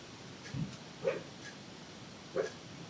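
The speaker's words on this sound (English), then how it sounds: "That's Oz, my dog. Somebody made a noise" A dog indoors lets out three short, separate barks spaced across a few seconds, faint and somewhat distant, against a quiet room.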